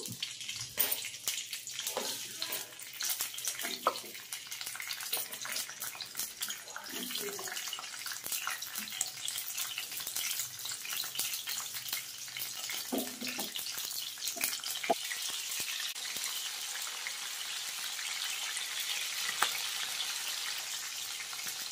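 Chillies fry in hot oil for egg fry, a continuous close sizzle and crackle that stays steady throughout with occasional light clinks.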